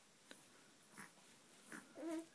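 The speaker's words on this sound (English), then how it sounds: "Also kind of sounds like she's snorting." A five-and-a-half-week-old baby girl lying on her tummy gives soft snorts and breathy little whimpers, faint and close, in short spaced bursts with quiet between them.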